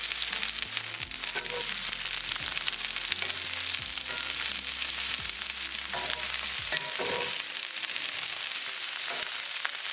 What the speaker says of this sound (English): We're going to cook mushroom until it's nicely sauteed